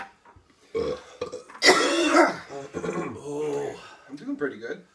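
A loud, drawn-out belch from a man partway through drinking a gallon of milk, rumbling for about a second at full volume, with his speech and faint background talk before and after.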